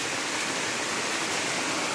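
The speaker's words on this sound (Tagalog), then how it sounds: "Sabay lakas ng ulan." Heavy rain pours steadily in a dense, continuous hiss with no pauses or voices.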